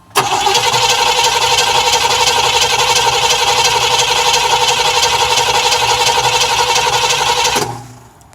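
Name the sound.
Cadillac Eldorado Biarritz engine cold cranking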